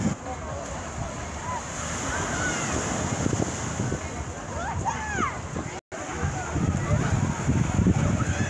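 Sea waves wash ashore where a stream meets the sea at Değirmenağzı beach in Kozlu, Zonguldak, a steady rushing surf mixed with gusty wind buffeting the microphone, while someone talks over it.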